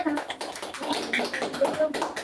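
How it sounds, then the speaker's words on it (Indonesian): A classroom group of students gives a short burst of applause, a dense patter of claps mixed with children's voices and chatter throughout. "Oke, tepuk tangan dulu."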